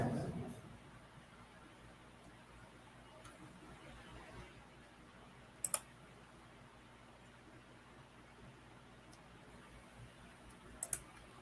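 A computer mouse clicks twice, each a quick double tick separated by several seconds, over a quiet room hiss.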